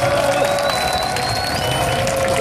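Audience applause and cheering for a choir at an outdoor evening concert in Gwanghwamun square, a dense steady wash of clapping with a few voices calling out above it, loud and continuous throughout.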